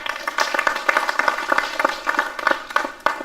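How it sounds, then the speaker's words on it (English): An audience at a funeral conference in Kenya gives a round of applause, a steady patter of many hands clapping, moderately loud and with no talk over it. "Let's give him a round of applause, please."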